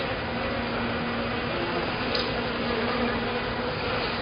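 Honeybees humming steadily during a hive inspection, a continuous dense drone from many bees close by, even in level with no pauses.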